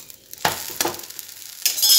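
Gola roti batter bread cooking in a pan, with sharp bursts of sizzling as the batter hits the hot surface, broken by quieter gaps and scraping, close and loud.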